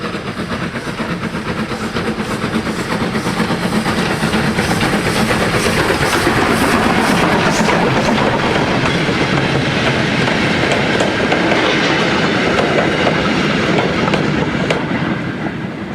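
A model railway train on a Somerset & Dorset Joint Railway layout runs steadily toward a tunnel, its wheels clicking rhythmically over rail joints in a close, continuous rumble with no speech.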